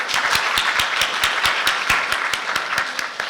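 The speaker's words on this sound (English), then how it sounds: "please give a big round of applause to our speakers again" Audience applause after an academic workshop, a dense, steady clapping from a sizeable crowd filling the room at even loudness for a few seconds, with no voices.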